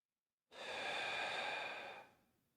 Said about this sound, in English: take a breath in here first